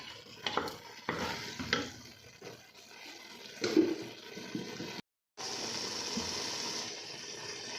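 Grated carrot halwa roasting in ghee in a pan, with milk cream added earlier. Soft stirring scrapes and a steady sizzle sound close by, followed by a brief gap and then a louder continuous frying hiss.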